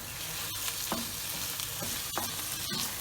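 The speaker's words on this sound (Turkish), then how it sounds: "Tereyağı ile birlikte de biraz kavuracağız" Butter sizzling in a pan while filling for içli köfte is sautéed, a dense, loud frying hiss with repeated spatula scrapes and taps against the pan, close and without speech.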